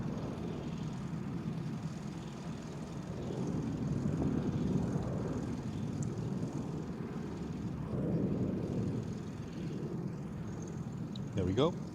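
A KLM airliner at Amsterdam Schiphol airport gives a steady, moderately distant engine rumble that swells and eases over time, with people talking nearby over it.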